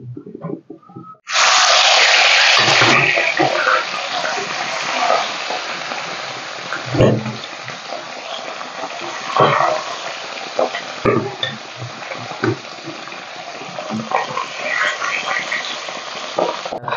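Fish seasoned with turmeric and salt frying in hot oil in a wok, a loud continuous close sizzle that starts abruptly and carries on with scattered pops and stirring scrapes, no talking.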